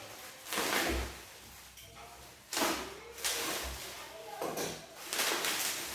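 A delivered package holding a portable folding chair is torn and opened by hand, with repeated loud rustling, ripping and thudding bursts of cardboard and plastic at close range.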